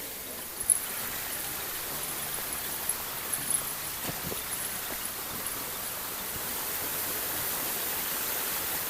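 Constant broadband rush of the hot spring waterfall at Khlong Thom, Krabi, Thailand, a steady wash of falling water with a few faint splashes and no voices.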